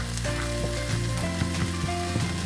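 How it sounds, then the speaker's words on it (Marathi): Fresh grated coconut for Malvani vatan sizzles and crackles steadily as it roasts in a pan, with faint stirring scrapes over the continuous frying hiss. "आता आपण आपलं खोबरंही छान भाजून घेऊया।"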